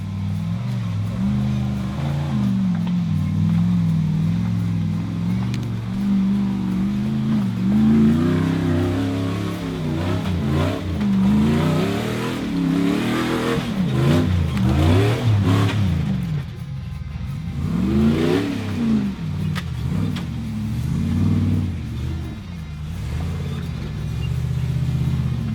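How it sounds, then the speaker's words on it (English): An off-road vehicle engine at an adventure off-road park revs hard and repeatedly against the rev limiter, a loud, continuous rumbling roar with rising and falling sweeps across the whole stretch. "rev limiter all the way"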